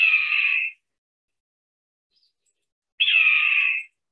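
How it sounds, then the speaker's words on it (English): A red-tailed hawk screams twice, each call a loud, harsh, drawn-out cry lasting under a second, separated by a few seconds of silence with no other sound. "that's what Hollywood and a lot of advertisements tell you is an eagle. That's actually a red-tailed hawk."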